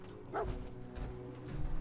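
Dogmeat, the dog in the Fallout 4 video game, gives a short bark then softer low woofs, close and brief, with no speech over it.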